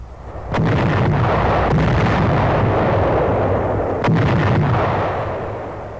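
Naval artillery and bombs pounding invasion beaches, a loud continuous rumbling roar broken by sharp blasts near the start and again a few seconds later, with no speech.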